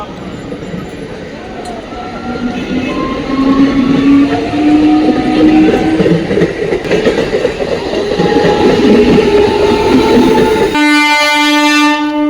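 A train rumbles past a station-side vegetable market at Shibaichandi, steady rolling wheel noise, then a loud, sustained horn blares near the end.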